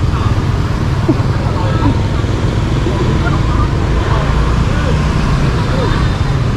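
Dense street traffic in Hanoi heard from the roadside, a constant loud rumble of engines and passing vehicles with no letup.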